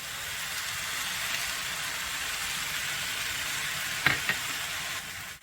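Beef fried rice with frozen mixed vegetables sizzles steadily in a hot pan as soy sauce goes in, a continuous frying hiss with a brief clatter of utensils near the end.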